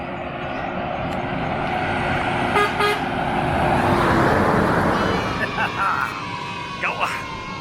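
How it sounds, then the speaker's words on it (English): A vehicle horn toots several times from a passing road vehicle beside a walking trail, heard over steady traffic rumble with people talking nearby. "I want to see if I can get this guy to honk."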